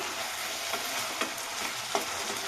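Pieces of shol fish fry in a spicy curry masala with whole green chillies, a dense, constant sizzle filling the pan, broken by a few gentle scrapes as the spatula stirs.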